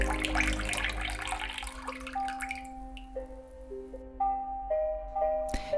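Filtered water is poured into a cup to measure it for a ginger cold remedy: a rushing splash that gives way to ringing, rising tones as the vessel fills, close and clear with no talking.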